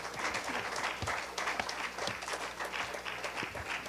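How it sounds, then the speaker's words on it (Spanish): Church congregation applauding in their new building, a steady crowd clapping with some distinct, loud individual claps popping through the wash of hands. "Dense un aplauso a ustedes, hermanos"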